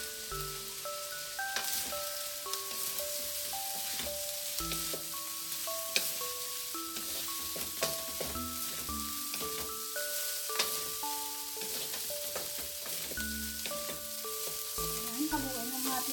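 Shrimp and cooked rice being stir-fried for pineapple fried rice, a steady sizzle broken by scattered spatula scrapes and clinks against the pan, heard close with no talking.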